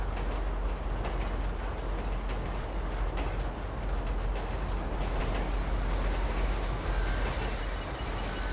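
A train rolls along in GTA V Online, a steady loud rumble with a faint rhythmic clatter that fills the whole stretch without letup.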